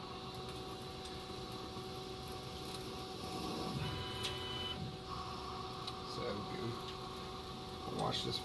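An EMCO Concept Turn 60 CNC lathe cutting plastic gives a steady, fairly quiet mechanical whine and hum, with a thin tone rising briefly midway and faint ticks throughout.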